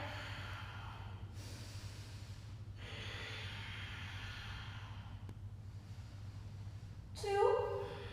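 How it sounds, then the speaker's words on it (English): Deep Ujjayi yoga breathing, slow and audible: long breathy hisses of inhale and exhale alternate in a quiet room, with a sharper sniffing breath near the end. "And we take 5 deep Ujjayi breaths."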